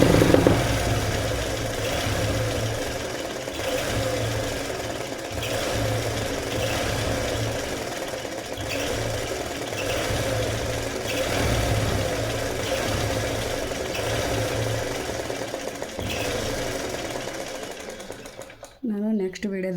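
A sewing machine runs close by for embroidery practice without thread, stitching in a steady rapid whir with brief pauses and speed changes, with a voice talking over it throughout.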